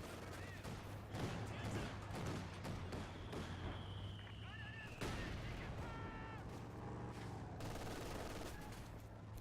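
A Puma armored car firing in a winter Finnish landscape in a strategy video game, repeated gunshots and bursts of fire at mid distance amid battle noise, with a caster talking throughout.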